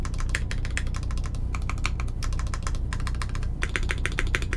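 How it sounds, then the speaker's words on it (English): Quick bursts of typing on a Volcano660 mechanical keyboard with H1 switches, including stabilised modifier keys and the spacebar, sharp high clacks in fast clustered runs separated by short pauses. "Spacebar sounds great. Spacebar sounds epic"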